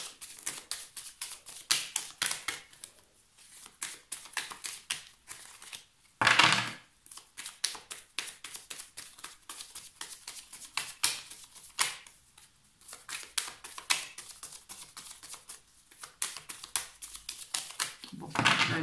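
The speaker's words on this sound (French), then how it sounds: "Je vais poser les cartes" Tarot cards laid out one after another on a table, with close, crisp flicks and soft slaps in an uneven rhythm and a brief rustling shuffle burst partway through.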